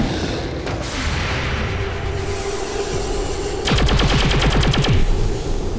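Gunfire in the turn-based strategy game XCOM 2, Legacy Ops, fighting Chryssalids: a rapid burst of evenly spaced automatic shots over a loud rumbling game backdrop, preceded by a single sharper report.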